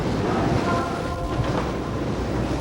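Wind and rain lashing a dock during a storm, a continuous, roaring rush with low rumbling gusts and hissing spray at a fairly loud, steady level, with no voices.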